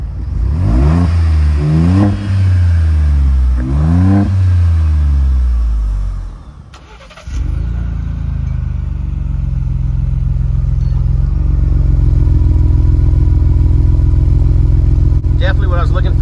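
A 2021 Ford Bronco engine revs repeatedly through a new black-tip aftermarket exhaust, with several sharp rising-and-falling blips up close, a brief dip, then a steady deep idle rumble.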